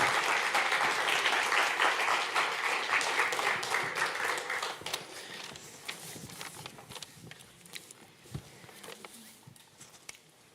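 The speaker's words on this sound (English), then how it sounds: "Give them a warm applause." Audience applause at a festival award event, a dense wash of clapping that starts loud and gradually thins out into scattered claps.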